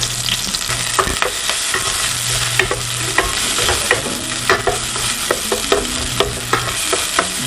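Chopped onion frying in hot oil in a home kitchen pan for adobo chicken rolls, a steady loud sizzle with repeated scraping and stirring clatter throughout, no voices.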